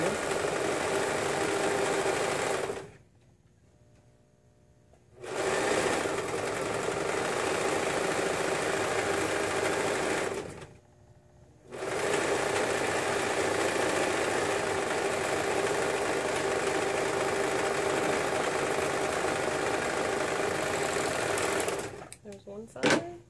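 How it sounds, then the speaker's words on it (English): A serger stitches up the side seams of a romper in long, steady, close whirring runs, stopping briefly twice and ending with a few clicks. "We're going to serge straight up the side seams."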